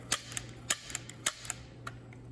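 A 1950s Marx toy Army pistol snaps off a quick series of sharp cap-gun pops, three louder cracks with smaller clicks from the mechanism between them, close and dry with no voices.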